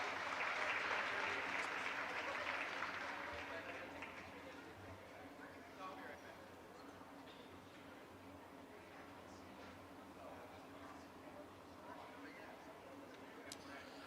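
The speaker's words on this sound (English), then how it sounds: "Let's have a round of applause for our 24-25 bowling seniors and their families." A crowd in a high school gym at a boys' basketball game claps loudly for senior recognition at first, then the applause thins out to scattered clapping and murmuring in the large, echoing room.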